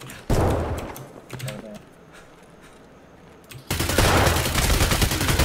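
Gunfire in Escape from Tarkov, a tactical shooter: a sharp opening volley, a few scattered shots, then a sudden loud sustained burst of automatic fire that runs to the end.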